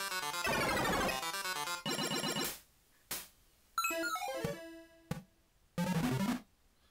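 A chiptune drum kit sequence plays in Reason 6: bursts of buzzy 8-bit tones and noisy hits with pitched stepping runs, cut by brief gaps. It sounds close and loud, with no talking.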